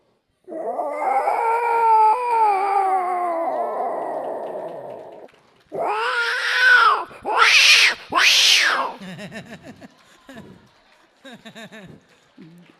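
A voice mimics two cats fighting: a long drawn-out yowl, then a pause and sharp, harsh screeches and spitting hisses, loud and close.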